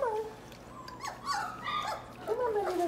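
Puppies give high, wavering whimpers and yips in short bursts, fairly close, with a person's coaxing voice mixed in between the cries.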